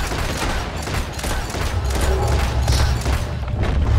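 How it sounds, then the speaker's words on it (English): Dense, continuous gunfire from a bank robbery shootout in the video game Red Dead Redemption 2: loud overlapping shots and booming reports packed tightly together over a heavy, rumbling wash, with no clear pauses. "These guys are taking way too many shots here."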